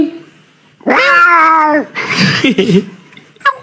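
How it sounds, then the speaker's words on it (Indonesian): A cat lets out one long, loud, drawn-out meow near the microphone, followed by softer, broken cries and a short final squeak. "Kucing."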